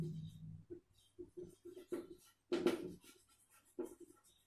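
A teacher writes a formula during a chemistry class, making quiet scratchy strokes in short irregular bursts, each a separate word or symbol, with one louder stroke partway through.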